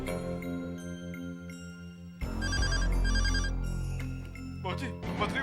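A telephone rings with a repeated electronic trill in short bursts, loud and close, following a stretch of background music and voices.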